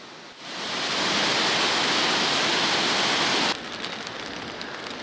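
Steady rain by the Mondego river on a cold day, heard as a loud, dense hiss that swells in after a moment, holds, then drops to a softer wash of falling water.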